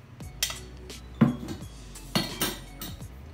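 Kingfish pieces mixed with ginger-garlic paste in a bowl: a few sharp metallic clinks and scrapes of a spoon against the bowl, spaced out over a quiet background with no talking.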